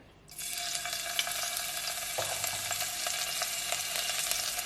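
Ginger and garlic drop into a hot pan already used for cooking, setting off a sudden, loud, continuous sizzle that stays steady, with faint stirring noises mixed in.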